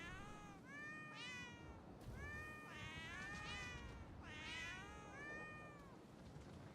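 A ship horn in a naval video game sounds as repeated cat meows and yowls, several drawn-out, wavering cries in quick succession, fairly close and clear over faint background game noise.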